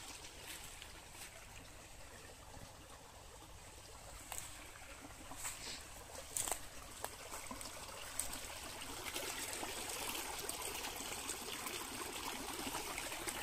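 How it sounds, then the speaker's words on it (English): A steady, gentle rush of falling water runs throughout, with occasional faint clicks and knocks over the continuous splash. "Small waterfall."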